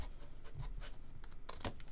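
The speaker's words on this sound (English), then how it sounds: "I'm gonna take my long scissors for this" Long scissors cutting and mitring the end of a half-inch paper strip during a stamping and card-making craft project, giving soft scratchy snips and rustles close by, with one sharper crisp cut near the end.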